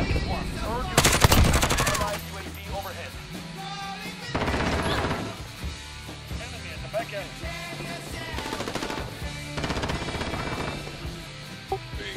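Video game gunfire as a player shoots an enemy, rapid automatic bursts and scattered single shots spread over several seconds, loud and close, mixed with game effects and some talk.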